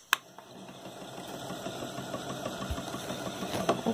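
A small homemade electric spinning wheel motor hums and whirs steadily at a low, even pitch with a faint rhythmic knocking, close by and fairly quiet.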